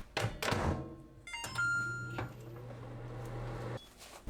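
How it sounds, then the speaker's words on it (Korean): A microwave oven heats a plate of drained, squeezed tofu. Thunks and a door closing come first, then a steady low hum with a faint whine runs for a couple of seconds and stops abruptly. "전자레인지 2분 익힙니다."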